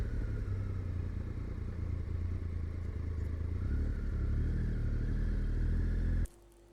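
Triumph Tiger 1200 motorcycle riding, a steady, loud engine drone with wind rush that stops abruptly near the end.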